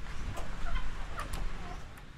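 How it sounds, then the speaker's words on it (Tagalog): Laying hens in a backyard coop, with a few soft clucks and short calls over low rustling background noise, faint and close. "puntahan muna natin yung yung kulungan ng mga manok ko ngayon"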